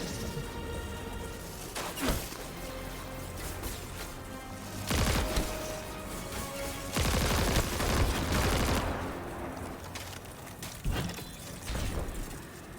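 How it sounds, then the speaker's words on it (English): Heavy gunfire from a cannon-style gun in Destiny 2, with dense bursts of booming shots and explosive blasts that come in waves, loud throughout with a few short lulls and no speech. "I had to shoot that thing with the gun, with the cannon."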